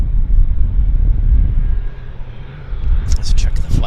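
A jet-powered airliner taxis toward the gate at Vancouver Airport, its low broadband engine rumble steady and fairly loud, dipping briefly before swelling again, with wind buffeting the microphone and a few sharp clicks at the end.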